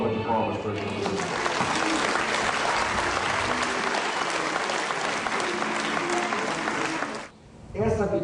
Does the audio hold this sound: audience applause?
yes